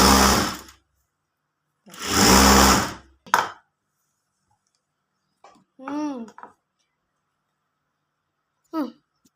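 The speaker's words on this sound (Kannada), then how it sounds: "ಅರ್ಧ ಮಡಚ್ಕೊಂಡು ಒಂದು ಸ್ಟಿಚ್ ಹಾಕ್ಕೋಬೇಕು." Electric sewing machine stitching a blouse band in two loud, steady runs near the start, followed by a short burst, then quiet stretches broken by someone talking.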